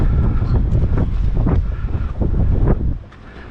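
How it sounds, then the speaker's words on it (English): Strong wind on a hilltop by the Hope Town lighthouse in the Abacos buffets the microphone in loud, gusty roars that rise and fall before easing off near the end. "Pretty windy up here, eh?"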